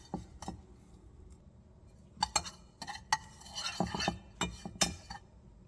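A utensil clinks and scrapes against a bowl while Parmesan cheese is stirred together with seasonings and ground mustard into a pork chop coating, a few sharp close taps scattered over quiet, soft stirring.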